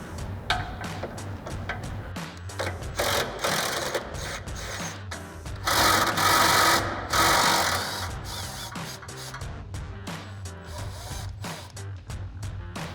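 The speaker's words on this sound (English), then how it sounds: "we'll grab our 13mm socket and extension on our impact and go ahead and get those off" An impact wrench with a 13mm socket and extension removing exhaust hanger bolts on a Dodge Challenger, heard as close, repeated rattling bursts of the tool with a longer sustained run in the middle.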